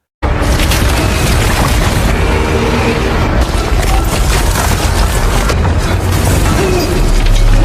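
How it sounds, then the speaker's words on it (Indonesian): Deep, loud rumbling roar of a violent earthquake in a disaster film, the quake cracking a dam, continuous and booming with heavy low-end crashing throughout, no voices. "terjadilah gempa hebat yang menimbulkan retakan pada bendungan"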